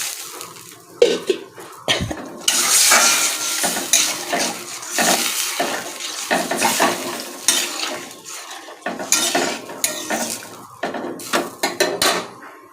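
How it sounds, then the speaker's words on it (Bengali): A little water goes into a curry cooking in a hot pan, setting off a broad sizzle, then a spatula stirs and scrapes the metal in repeated close, loud strokes. "এই যে জল দিয়ে দিচ্ছি বন্ধুরা, হালকা করে অল্প জল দিয়ে দেবো।"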